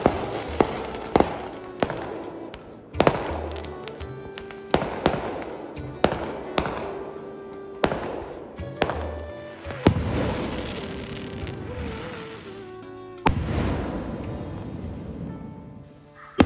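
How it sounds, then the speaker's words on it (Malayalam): Fireworks go off outside a house during a festival: a series of loud, sharp bangs and crackling bursts, some sharper and closer, with echoing tails in between and a denser, rumbling stretch of explosions toward the end. "അപ്പോഴേക്കും വെടിക്കിട്ട് തുടങ്ങിയിട്ടാ"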